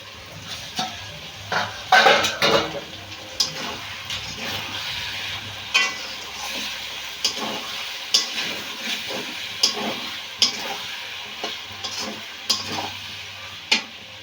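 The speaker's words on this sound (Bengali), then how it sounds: "ঢাকাটা খুলে আবার একটু নেড়ে দেবো" A lid comes off a pan of simmering lote fish curry, followed by repeated spoon scrapes and stirring knocks against the pot over a soft continuous sizzle, close and fairly loud.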